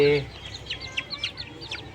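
Kadaknath hen clucking in short, repeated calls at close range, with a brief voice at the start.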